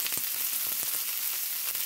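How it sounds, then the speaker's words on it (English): Seasoned vegetables for a vegetarian soup stir-fry in a pan, a steady close hiss of sizzling with soft scraping stirs throughout, no talking. "That all we want to do is stir fry them and get them seasoned really good."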